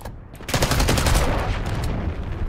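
Gunfire in a competitive Call of Duty match, loud and close, with dense rapid bursts of automatic shots rattling continuously for a couple of seconds after a short quiet start.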